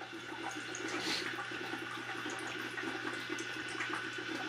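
Water runs steadily into the condenser of a Soxhlet extractor during a capsaicin extraction, a continuous close hiss and trickle like a running tap that holds level throughout, with no voices.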